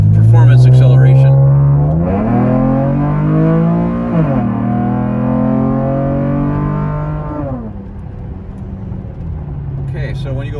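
A 2010–2015 Camaro V6 fitted with an MRT Version 1 cat-back exhaust and H-pipe accelerates hard, its loud engine note climbing through rising gear pulls and then easing off near the end, with no talking.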